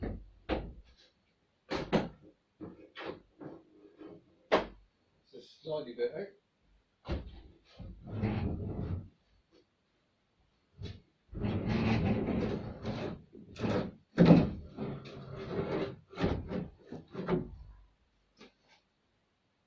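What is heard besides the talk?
car door being removed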